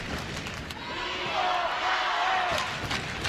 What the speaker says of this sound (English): Crowd really into it now